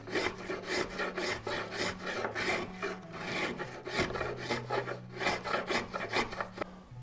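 The stringers and keel of a quarter-scale wooden Temptress boat are bevelled by hand, producing a rhythmic series of close rasping strokes, steady and repeated, with no talking.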